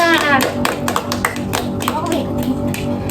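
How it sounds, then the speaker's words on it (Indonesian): Children in a classroom clapping for a classmate, a short scattered burst of hand claps under a speaking voice, moderately close. "Oke, tepuk tangan untuk Ranisa."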